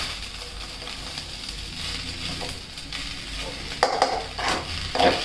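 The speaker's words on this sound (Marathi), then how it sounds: "छान फ्राय करून घ्यायचं, याला हलवून घ्यायचं व्यवस्थित." Garlic with salt frying in a pan, a constant soft sizzle under stirring, with a few louder scraping strokes of the spoon near the end.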